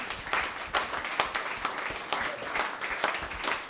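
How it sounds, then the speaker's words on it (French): Short round of audience applause for a trophy winner at an informal awards show, steady mid-level clapping from a small crowd throughout. "On applaudit Yves Bornu."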